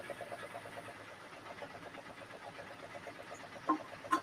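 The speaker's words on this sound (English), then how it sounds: "New Holland tractor." An alcohol-burning New Holland pulling tractor runs at a tractor pull, its engine a steady, fairly distant pulsing drone with a couple of sharper bursts near the end.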